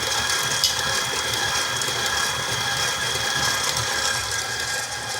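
An electric hand mixer creams sugar for molasses cookie dough with a steady, continuous mechanical whir and rattle. It is moderately loud, close and alone.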